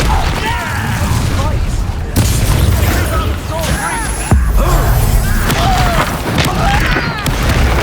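Confringo spell blasts in the video game Hogwarts Legacy, heavy booming explosions and crashing impacts in dense battle noise, with characters shouting over the combat.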